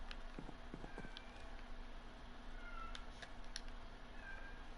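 A cat meows a few times during Minecraft gameplay, short high tonal calls sitting over a steady background hum and some clip-clop-like knocks.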